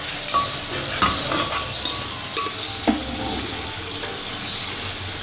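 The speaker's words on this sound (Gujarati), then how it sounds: "તો હવે આપણે એમાં મગ એડ કરી દઈશું" Mung beans tipped into a pan of cooked tomatoes: a steady close sizzle with spoon scrapes and clinks against the pan.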